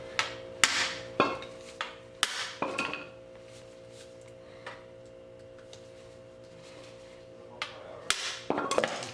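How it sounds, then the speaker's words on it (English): A 2-pound brass hammer strikes an impact driver on a Honda CB350/CB360/CB450 oil filter, with a cluster of sharp metallic cracks that ring out, a quiet stretch, then another quick run of hits. "finally giving it a good solid crack with a good hammer. It's a 2-pound brass hammer"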